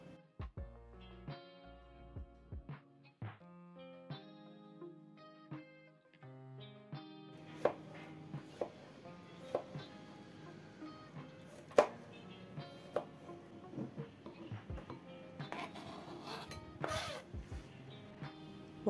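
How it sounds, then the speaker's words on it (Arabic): Cucumber is chopped on a board for a spicy Korean side dish, with a series of sharp, close knife taps in an irregular rhythm, first sparse and then quicker. "يلا نعمل الطبق الجانبي الكوري الخيار الحار"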